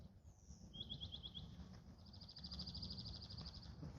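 A bird calls outdoors in a quiet spot away from road traffic: a short run of five rapid high chirps, then a longer trill of quick repeated notes, faint and distant over a low ambient rumble.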